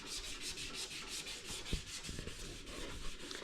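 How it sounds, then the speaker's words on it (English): Wet sanding on the body panels of a Chevy K10 truck project, a steady close-up rubbing and scraping that runs continuously with a few sharper knocks and scuffs partway through. "and now we're wet sanding."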